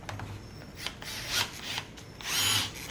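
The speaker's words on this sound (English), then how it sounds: "Before we begin putting our transmission on, we need to first drill out the starter to bolt onto the adapter kit." A power drill bores out a car starter during an engine and drivetrain build for a Nissan 240SX, with short whining bursts rising and falling between pauses, fairly close and moderately quiet.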